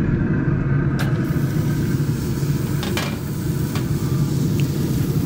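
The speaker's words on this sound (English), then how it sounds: "Now it's searing a little bit, okay?" Steak searing on the grates of a pellet grill, a steady low sizzle and rumble with a few faint clicks and scrapes, no talking.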